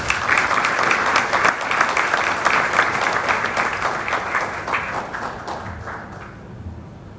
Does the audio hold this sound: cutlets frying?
no